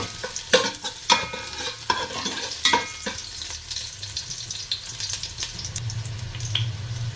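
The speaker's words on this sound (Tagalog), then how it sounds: "Bawang. Kasi yung ano eh, nainit na masyado yung kaldero natin." Garlic hits an overheated cooking pot for pork sinigang and sizzles steadily, with a few sharp clinks and scrapes of a utensil stirring close by.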